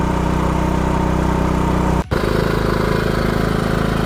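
A Dnipro-M GX-30iG inverter generator running on petrol/gas at its first start, with a loud, steady engine drone that cuts out for a moment partway through, then carries on.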